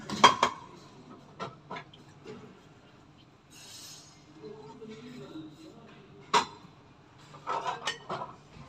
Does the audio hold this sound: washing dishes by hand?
yes